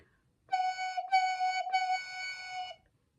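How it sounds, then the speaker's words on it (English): A steady breathy whistling tone blown into a recorder mouthpiece, held for about two seconds with a couple of brief breaks, clear and close. "they hold it with their recorder mouthpiece on the palm of their hand"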